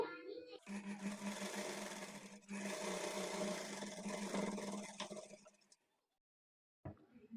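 A sewing machine runs in steady bursts while stitching the side seam of a blouse, its motor whir loud and close, stopping briefly near the end before starting again.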